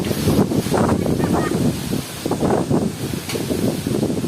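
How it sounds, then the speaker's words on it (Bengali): Strong storm wind gusts roar steadily in Rajbari district, Bangladesh, as broadband rushing noise buffets the microphone in surging waves for the whole stretch, with no clear talk over it. "অদ্ভুত ধরনের বাতাস আসছে"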